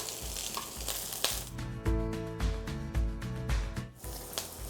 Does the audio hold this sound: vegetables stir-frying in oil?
yes